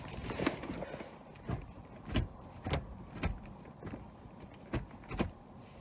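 Gear shifts through a Burger Motorsports short shifter in a parked car: a series of about eight sharp mechanical clunks and clicks at irregular intervals, close and fairly crisp over a quiet background, with no talking.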